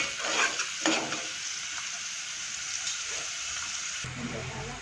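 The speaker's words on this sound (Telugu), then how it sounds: "ఈ ఆనియన్ కొంచెం ఎర్రగైనాక బెండకాయ ముక్కలు వేసుకున్నాము." Okra pieces frying with onion in a pan, a broad steady sizzle with brief scraping stirs near the start and a clunk near the end, close and without talk.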